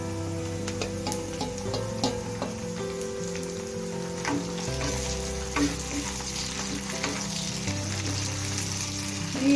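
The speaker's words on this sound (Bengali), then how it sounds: "এবার এর মধ্যে আমি কুচিয়ে রাখা টমেটোগুলো দিয়ে দেবো।" Chopped tomatoes sizzling in a pan with onions already fried red for a soyabean kofta curry, a steady close frying hiss with occasional spatula stirs and a low hum underneath.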